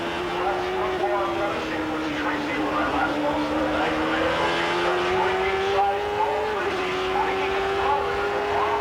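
A 1993 Indycar races around the bumpy Cleveland, Ohio circuit, heard onboard as a loud, steady engine drone whose pitch rises and dips through the corners, with race commentary over it.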